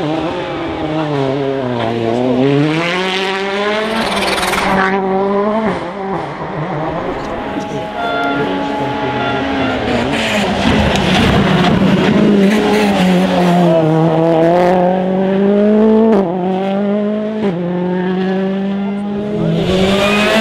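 A rally car at the WRC Rallye de France 2013 revs hard through gear changes, its loud engine pitch rising and falling repeatedly with some tire noise, while commentators talk over it.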